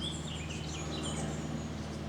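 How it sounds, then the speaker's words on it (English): A blackcap, also called the northern nightingale, sings during a countryside walk near Flitwick. Its thin, warbling phrases sit faintly and steadily above a constant low hum, with no voices present. "Hear that? Blackcap."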